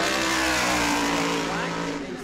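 Race car number 92 at New Smyrna qualifying runs a loud, sustained engine roar under an announcer's voice, with the pitch slowly shifting as it passes along the track.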